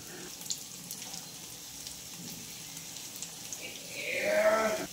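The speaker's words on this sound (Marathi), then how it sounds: "आता त्यात थोडंसं तेल टाकायचं आहे अजून आणि बाकीचे आपले सगळे अजून फ्राय करायला टाकून द्यायचे आहे" Fish frying in hot oil in a pan, a faint steady sizzle that swells into a louder hiss near the end as more pieces go in.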